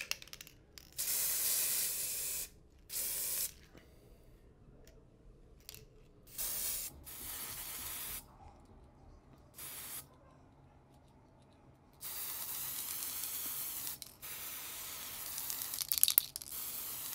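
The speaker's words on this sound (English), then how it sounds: "We're going to go in with a green hairspray." Green hairspray misted onto hair for a Halloween Beetlejuice makeup look, in a series of loud aerosol hiss bursts of varying length separated by short silent gaps, with no talking.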